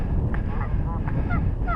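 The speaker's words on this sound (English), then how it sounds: "And there's the goose." Goose honking near a nesting island on the Oldman River, a few short calls over steady wind noise outdoors.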